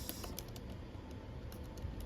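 Typing on a computer keyboard while designing a flyer, a quick irregular run of soft key clicks, close and quiet, with no talking.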